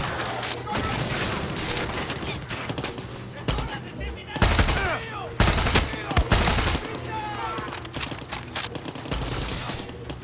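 Bursts of rapid gunfire and single shots in the video game Far Cry 6, loud and sharp, repeating irregularly with game sounds and someone talking over them.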